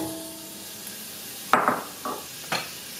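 Chopped onion frying in oil in a cooking pot, a soft sizzle under a few sharp stirring clacks and scrapes of a utensil against the pot, close and fairly quiet.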